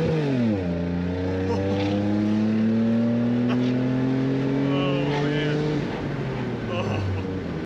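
A supercharged Toyota Sienna minivan accelerates steadily, its loud exhaust tone climbing in pitch through several gears, with a brief drop between shifts before easing off near the end.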